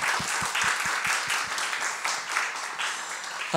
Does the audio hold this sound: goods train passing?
no